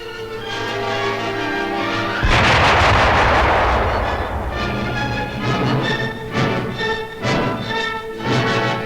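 A sticky demolition charge set on a tank during a 1943 wartime exercise goes off as a loud, rumbling blast, followed by a run of further heavy bangs and crackling bursts mixed with a soundtrack.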